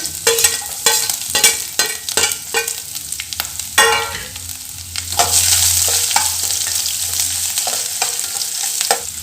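Curry leaves, chopped garlic and ginger sauté in a pan for a spicy chutney, opening with a burst of crackling pops and spatula scrapes that settle into a denser, steady hiss of frying, close up and with no voices.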